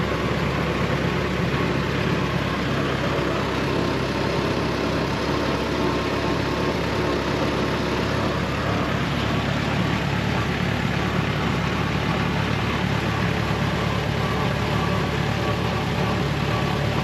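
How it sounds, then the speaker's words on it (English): A 1923 Ford Model T engine idles steadily and smoothly for a long stretch, a constant low putter with no talking over it. "Like most Model Ts, very smooth running. I kind of think of them like an old tractor engine."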